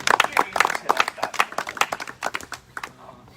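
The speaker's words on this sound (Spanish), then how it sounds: "Dale un aplauso a Dios." A church congregation claps during a sermon on Genesis 13, a close, loose burst of individual hand claps in an irregular rhythm that thins out and fades toward the end.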